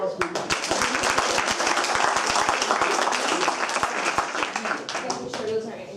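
An audience applauds a panel at a talk, a loud, dense spread of clapping with sharp individual hand claps standing out and a voice speaking over it before the clapping fades near the end.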